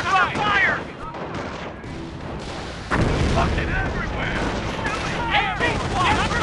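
Gunfire and explosions in the World War II strategy video game Company of Heroes, rapid rifle and machine-gun bursts with heavy booms, loud and continuous, with soldier voice lines heard over the battle.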